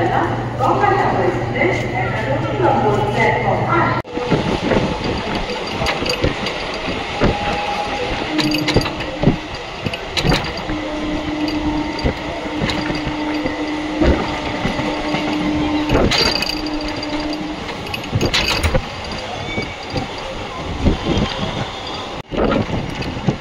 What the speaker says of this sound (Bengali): এই হচ্ছে 7টা 26-এর দত্তপুকুর লোকাল। এইটা ধরবো এখন